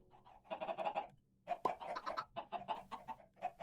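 Minecraft chickens cluck in a farm setting, a string of short, mid-pitched clucks in bursts after a brief quiet start, fairly close and alone without talk.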